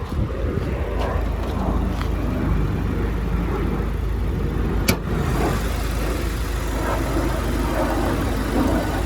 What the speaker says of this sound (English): Two-liter direct injection Boxer motor.